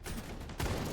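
Gunfire in a competitive shooting video game, a dense crackling burst that jumps louder partway through, without talk.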